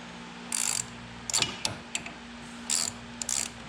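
A ratchet wrench tightens suspension links on a car during a ball joint replacement. Close, loud bursts of rapid ratcheting clicks come in several short runs over a steady low hum.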